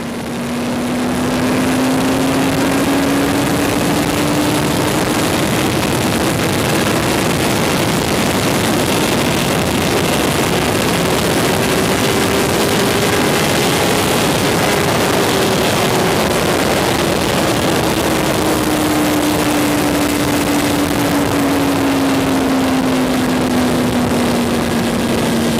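A Kawasaki Ninja 636 motorcycle engine ridden in fifth gear gives a loud, steady droning hum that slowly rises and falls in pitch, with heavy wind rush over the microphone and no talking.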